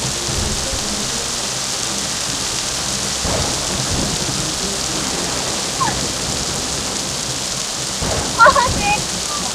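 Heavy rain pours in a steady roar with thunder rumbling through it, a louder crack near the end; a storm in which lightning struck, with faint voices under the downpour.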